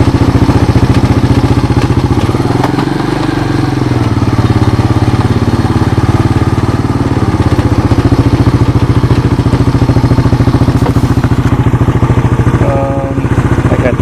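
A 1986 Honda TRX200SX ATV, a cheap used machine, idles steadily up close and loud, its engine chugging under a rattling, clattery chain that sounds worn, with no letup for the whole stretch.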